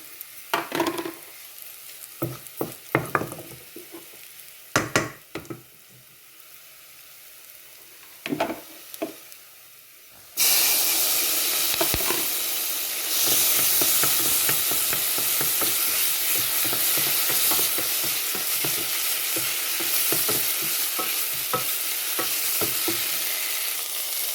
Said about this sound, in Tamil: இப்போ நான் தக்காளி பழத்தை போட போகிறேன் பாருங்க